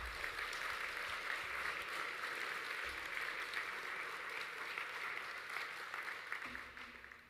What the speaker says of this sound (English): A huge round of applause to them for their generosity and